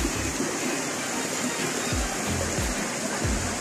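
Erskine Falls in Victoria, Australia pours in a steady, dense roar of falling water, heard close and unbroken, with faint low thumps beneath it.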